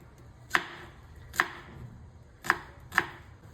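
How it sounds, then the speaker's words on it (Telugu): Knife strikes on a board as peeled vegetables, likely onions, are cut into small pieces: four sharp, close, separate chops at an uneven pace over a faint background hum. "తొక్క తీసి చిన్న చిన్న ముక్కలుగా కట్ చేసుకుంటున్నా"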